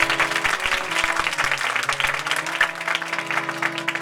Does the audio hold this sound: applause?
yes